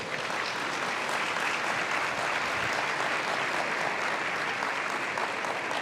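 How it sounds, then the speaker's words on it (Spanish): A warm welcome greets a visiting cardinal, the archbishop emeritus of Buenos Aires, at a talk on pastoral work and education. A large crowd's loud, continuous applause rolls on evenly and close by, with no voices over it. "al cardenal Mario Poli, a quien pido que recibamos con un cariñoso aplauso."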